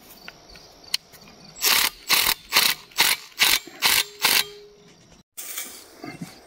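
Bolts being tightened on an old go-kart with a ratchet: seven quick, evenly spaced bursts of close, loud clicking, then a pause and one more burst.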